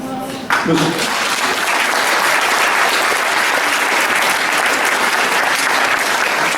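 Audience applause breaks out after a brief voice, sustained dense clapping from a crowd filling the rest, loud and steady without fading.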